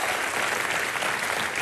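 A television comedy studio audience bursts into dense, continuous applause, many hands clapping loudly and evenly close by, with no voices over it.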